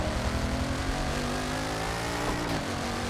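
A high-horsepower car engine revs in Forza Motorsport 7, a steady, loud mechanical drone with rising and falling harmonic tones as it accelerates, with no talk.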